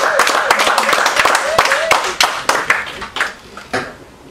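Conference audience applauding at a Brussels event on orphaned children: scattered handclaps with voices over them, dense at first, then thinning into separate sharp claps toward the end.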